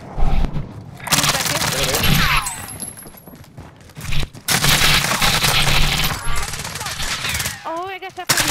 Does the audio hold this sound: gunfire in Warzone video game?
yes